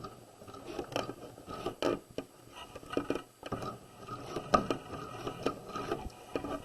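Sewing machine stitching down a flat collar, quiet irregular mechanical clicks and whirring bursts with short pauses between runs.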